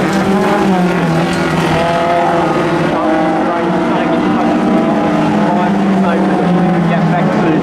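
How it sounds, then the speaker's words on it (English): Speedway race cars, including a rear-wheel-drive Datsun, roar around the track at Goulburn, a continuous loud droning engine note with shifting pitch, under a race commentator's voice. "Get back to Jason Crogate to the rear-wheel drive Datsun"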